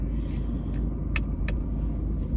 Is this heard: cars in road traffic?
yes